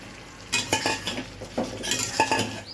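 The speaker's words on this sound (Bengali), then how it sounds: "এখন আমি আগে থেকে ভেজে রাখা মাছগুলো কড়া করে ভেজে রেখেছিলাম, সেটা ঢেলে দেব" Crisp-fried fish tipped into a softened vegetable curry and stirred, giving a few close spoon scrapes and clinks against the pan over a faint simmering sizzle, with no talk.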